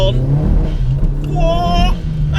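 SEAT Leon Cupra R with a hybrid turbo pulls hard in second gear on a greasy road, the engine loud and rising under throttle with a turbo whine, as a voice speaks over it inside the car.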